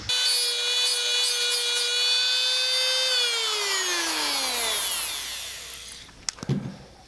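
A Dremel rotary tool shaping a boat shuttle for an antique sewing machine, a steady high whine that holds, then winds down as the motor stops, followed by a few close handling clicks and knocks.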